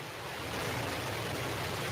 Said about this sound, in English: We have ignition of our BE-3 engine.